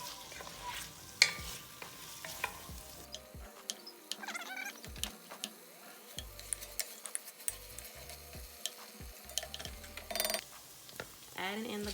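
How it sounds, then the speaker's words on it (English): Food sautéing over medium heat in a pot, stirred steadily so it doesn't stick, giving a soft continuous sizzle broken by scattered scrapes and utensil clicks, close and moderately quiet. "we're going to saute this on medium heat for about 5 minutes, or until they're really, really soft and translucent"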